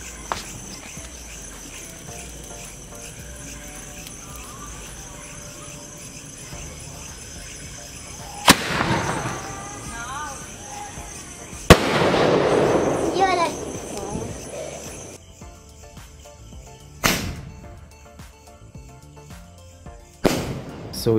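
Cock Brand Penta Sky Flash gold sky shot fireworks fire off in a series of sharp bangs with a crackling burst between them, loud and close, separated by quieter stretches of background noise.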